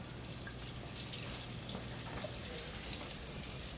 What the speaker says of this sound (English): I'm going to let this fry for about another minute just to make sure it's completely cooked on the inside